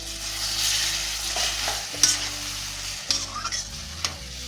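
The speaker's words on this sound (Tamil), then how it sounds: "இப்போ ஒரு வாட்டி மூடியை திறந்து கிண்டி விடலாம்." Prawn thokku sizzles and fries steadily in a pan while a spoon stirs it, with clinks and scrapes against the pan around two, three and four seconds.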